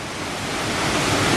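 Wind blowing spray off Dyserth Waterfall, a steady broad rushing hiss with gusty wind noise on the microphone, building slightly in loudness, no voices.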